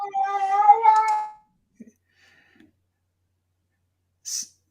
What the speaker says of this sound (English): That sounds like one of the kitty cats.